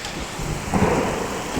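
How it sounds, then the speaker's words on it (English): A strong thunder rumble swells through heavy rain, a brief low roll rising midway over the constant hiss of downpour striking surfaces, with no voices. "Never have been that strong thunder here."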